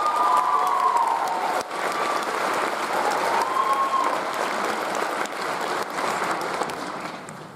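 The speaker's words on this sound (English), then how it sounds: "Please give her a round of applause." Loud, sustained applause from a graduation ceremony crowd for the psychology and neuroscience faculty speaker, an even wash of clapping with some cheering that holds for several seconds.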